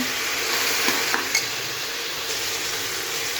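Vegetable pulav being stirred in a pan, a steady close frying hiss with a few soft scraping strokes of the spoon across the pan, no voices.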